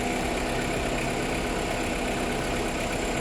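A car engine idles steadily with the air-conditioning compressor running during routine AC maintenance, a continuous even drone and hum with no variation and no voices.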